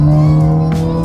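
A Mazda 2 S with a full-system equal-length Sokudo exhaust, revving at half throttle in second gear in sport mode, gives a loud, sustained engine drone with a steady low tone heard close up over about a second.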